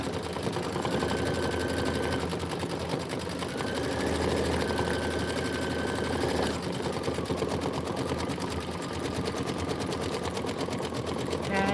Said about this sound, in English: This is 6 minutes of stitching, so just let it go